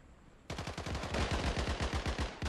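An automatic weapon in the WWII shooter Days of War opens up after a short quiet moment, a loud, close, steady stream of rapid shots lasting about two seconds.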